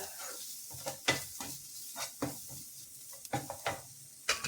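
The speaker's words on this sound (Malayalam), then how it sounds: "അതിൻ്റെ പച്ചവളം മാറണ വരക്കും ഒന്ന് പയ്യിളക്കുക" A mixture with turmeric powder cooking in a pan, stirred with repeated scraping and clattering strokes over a soft, low sizzle, close up with no voices.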